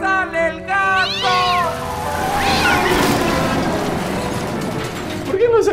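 A house cat meows in short rising-and-falling cries near the start and again at the very end, close and fairly loud, with a rattling mechanical clatter and voices in between.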